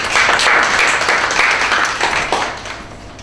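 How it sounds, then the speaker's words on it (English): An audience at a podcasting panel talk at Google Campus claps for the panelists, a loud, close flurry of hand claps that thins out and fades over about three seconds. "just a round of applause for the guys on the panel who are going to share their expertise"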